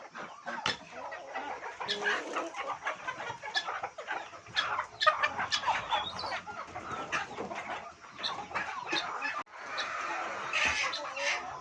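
Several chickens cluck and squawk close by in a busy, irregular chorus as they are fed biryani, with faint background chatter.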